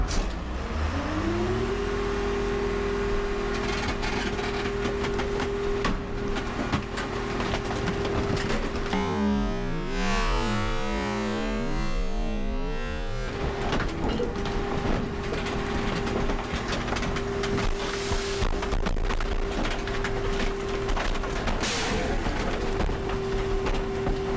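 A loader crushes an old tractor at a junkyard, with a heavy engine droning and roaring steadily throughout and a rough grinding, crunching stretch midway.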